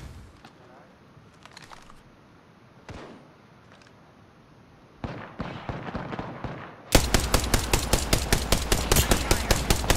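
Gunfire in Apex Legends breaks out in scattered distant shots at first, then a close, loud automatic weapon fires rapid evenly spaced bursts over the last few seconds, with talk heard between the shots.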